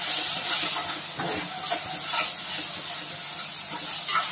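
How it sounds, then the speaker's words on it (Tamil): Ginger garlic paste hits hot oil in a frying pan while making mushroom biryani, giving a steady, close hissing sizzle that runs throughout with small crackling bursts. "இப்போ வந்து இஞ்சி பூண்டு பேஸ்ட் போட்டுக்கோங்க."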